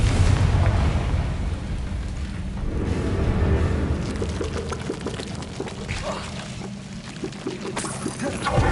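Confringo fire-spell blasts in Hogwarts Legacy roar loudly and continuously, a dense rushing, rumbling wash of explosive noise with no clear gaps between impacts.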